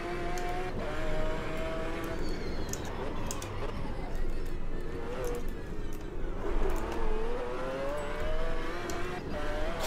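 A McLaren race car engine in a sim racing video game howls steadily, its pitch rising and falling through gear changes and corners, loud and continuous throughout.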